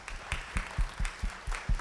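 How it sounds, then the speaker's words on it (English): Brief applause for church volunteers, a handful of distinct claps in an irregular rhythm over a soft murmur, heard at moderate distance. "Let's give them a warm round of applause."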